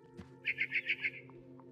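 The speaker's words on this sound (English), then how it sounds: "Then I heard chirping outside my window." Barn swallow in the video game What Remains of Edith Finch, chirping five quick, bright notes in an even rhythm, close and clear over a soft steady background hum.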